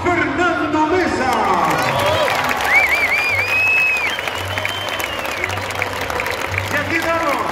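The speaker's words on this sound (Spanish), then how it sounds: "El aplauso para Fernando Mesa" A large crowd applauds and cheers at a football team presentation for Colo Colo, sustained loud clapping with whistles and a PA announcer speaking over it.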